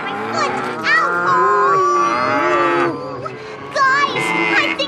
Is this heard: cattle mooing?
yes